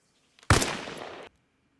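A single sharp report from a sniper rifle firing FMJ ammunition in Arma Reforger, at 100 meters, bursting loud and then trailing off in a short rumbling echo before silence.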